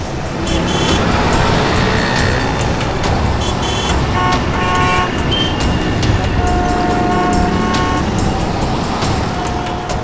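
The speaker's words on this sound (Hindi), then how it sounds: "अरे यार ये गाड़ी भगा रहा है।" A car races off along a road amid traffic, engine noise swelling and fading while horns toot briefly in the background; no one speaks.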